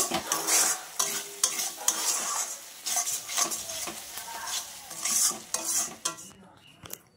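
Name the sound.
stir-frying spices with turmeric for jackfruit prawn curry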